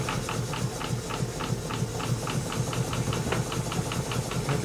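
Stuart No. 9 horizontal mill steam engine with a big bore and a leaky piston ring, running on steam with a fast, even rhythmic chuffing and clacking beat, moderately quiet and close.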